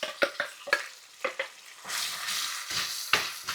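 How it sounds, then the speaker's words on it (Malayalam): A ground masala paste is sautéed in oil for crab curry, with a spoon scraping and tapping the pan in short strokes, then a steady sizzle that rises midway, all close by and with no talking. "ഇതെല്ലാം കൂടി ഒന്ന് നന്നായിട്ട് എണ്ണയിട്ട് വഴറ്റാവേ"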